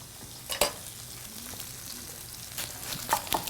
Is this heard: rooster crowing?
no